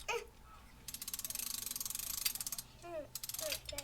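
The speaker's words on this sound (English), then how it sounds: "I'm going to crank this up until it's snug" Crossbow cranking device ratcheting, a fast even run of close metallic clicks, a short pause with faint squeaks, then a second burst of clicks.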